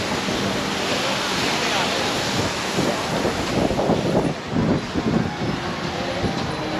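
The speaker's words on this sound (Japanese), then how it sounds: "水しぶきがこっちに来ると風の関係かな、めっちゃ飛んできます。" Water spray from the Merlion fountain in Singapore, a steady rushing gush blended with gusty wind buffeting on the microphone, loud and continuous outdoors.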